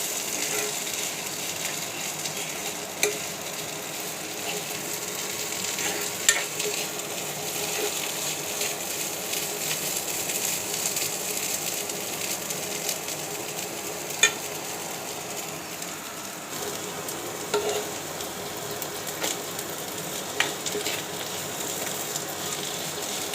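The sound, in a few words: vegetable stalks frying in a pan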